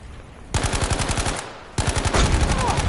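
Rapid automatic gunfire in Battlefield V Firestorm, two sustained bursts of closely spaced shots separated by a brief pause, loud and sharp in the foreground.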